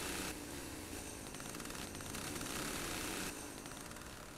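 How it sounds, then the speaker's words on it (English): A chainsaw roars in the video game Detectives United: Origins, a steady, harsh buzzing that runs for several seconds with a brief surge in the middle, heard alone without talk. "what do you bet we can't scare the crow away with a chainsaw, even though it's a chainsaw?"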